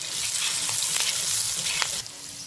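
Ginger and slit green chilies sizzle steadily in hot oil in a pan while a Bengali rohu fish curry is cooked, a close, continuous frying hiss with a few brief clinks and stirs and no voices.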